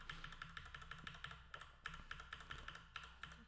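Computer keyboard typing at a desk, a rapid run of close, crisp key clicks with uneven rhythm and occasional harder taps, heard alone.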